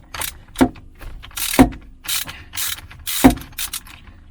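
A ratchet wrench loosens the red positive terminals on camper batteries used in a photovoltaic setup, giving close, repeated bursts of rapid pawl clicking with sharp metallic knocks between strokes, with no talking.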